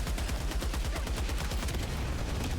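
Continuous automatic gunfire from held-down triggers in the video game Helldivers, a rapid unbroken stream of loud shots with heavy low thumps, dense and relentless throughout.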